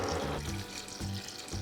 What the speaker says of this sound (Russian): И добавим воды.